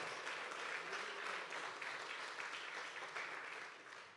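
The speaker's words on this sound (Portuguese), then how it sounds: "Aplauda ao Senhor Jesus, porque Ele merece toda a nossa adoração" A church congregation applauds during a sermon, a dense, steady wash of clapping from many hands that holds evenly for about four seconds before tapering slightly at the end.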